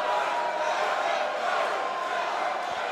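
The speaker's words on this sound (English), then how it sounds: "He's got the crowd chanting fight." A fight crowd at a Conquer Fighting Championships cage event keeps up a loud, sustained roar that may be chanting, a dense, even swell of many voices in a large hall.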